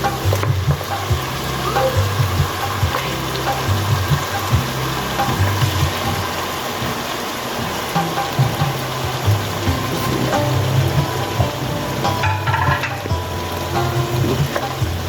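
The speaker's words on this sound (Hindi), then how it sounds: "अब ये अदरक लहसुन के साथ हम अपने गोश्त को अच्छी तरह से भूनेंगे" Steady loud sizzling of mutton frying with ginger-garlic paste in a hot pan, a dense crackling hiss with occasional stirring scrapes, continuous throughout.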